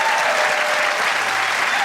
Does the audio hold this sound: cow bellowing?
no